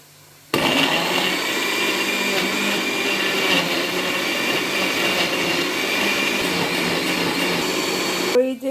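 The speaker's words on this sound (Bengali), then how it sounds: "এখানে হচ্ছে গিয়ে পেঁয়াজ ব্ল্যান্ড করা হচ্ছে পেঁয়াজ আর রসুনের সাথে" A blender whirs steadily, blending red onions with garlic in a kitchen; the loud, continuous motor drone starts abruptly and runs unbroken for about eight seconds before cutting off.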